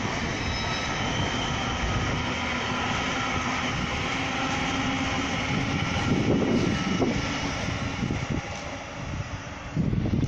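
A Class 800 train passes through Swindon station with a loud, steady roar and rumble that fills the whole stretch. It swells slightly toward the end, with no talk over it.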